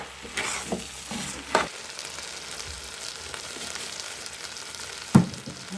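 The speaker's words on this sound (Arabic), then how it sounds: "بنشوح الرز كده بالزبده والزيت" Rice frying in butter and oil with salt, pepper, cumin and coriander, a steady close sizzle with a few sharp stirring knocks of a utensil against the pot.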